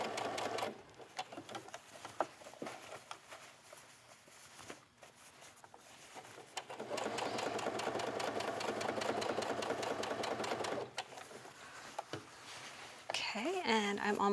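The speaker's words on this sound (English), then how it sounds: "I'm just sewing right on top of that previous line of stitching" A domestic sewing machine runs in long steady bursts, stitching a cap sleeve onto a dress along a previous seam line, with pauses between runs and a voice talking over and between the stitching.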